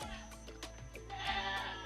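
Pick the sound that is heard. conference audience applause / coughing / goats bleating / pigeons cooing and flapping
goats bleating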